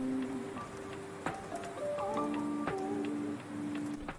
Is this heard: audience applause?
no